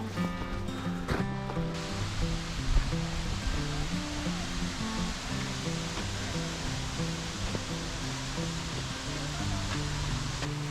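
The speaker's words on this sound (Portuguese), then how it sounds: "aqui tem uma cachoeira pequenininha que eu vou mostrar para vocês" A small waterfall on a hiking trail gives a steady, broad rushing hiss of falling water, moderately loud and continuous, with some low tonal hum beneath it and no talking.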